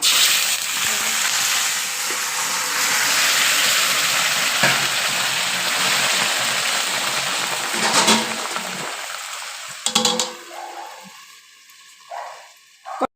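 Lafa greens fry in a pan for a homestyle winter curry, giving a loud, broad sizzle that holds steady for about ten seconds. It then breaks into clattering scrapes and fades, with a few brief sounds near the end.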